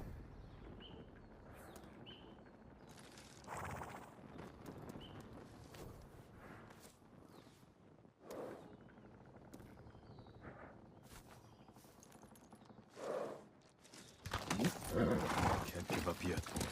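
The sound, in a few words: horses galloping and neighing in the video game Ghost of Tsushima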